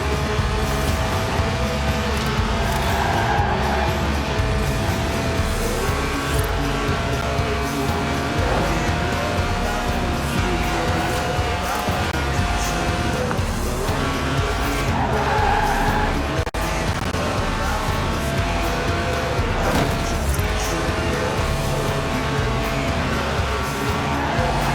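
In Forza Horizon 4, a Lotus of under 700 kilos runs its 1.8-litre, 190-horsepower engine, which revs to 8,000 RPM. It drones loud and steady throughout, with rising and falling engine tones and tire squeal.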